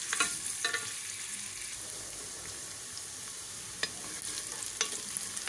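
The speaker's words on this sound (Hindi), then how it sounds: "हमने पैन के अंदर ऑयल डाल लिया है और प्याज ब्राउन करने के लिए डाल दी" Onions sizzle steadily in hot oil in a pan while browning, with a soft continuous crackle and a few occasional stirring clicks close by.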